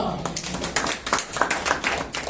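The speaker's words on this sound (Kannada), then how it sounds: "ಚಪ್ಪಾಳೆ ತಟ್ಟೋಣ." A church congregation at a Sunday Kannada worship service claps together in dense, rapid bursts that fill the space, rising and falling over a couple of seconds as a voice carries on.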